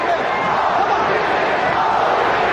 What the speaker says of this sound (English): Crowd trying to chant Holyfield.